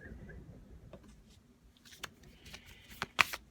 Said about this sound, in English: I'm just going to pull 3 cards to end the reading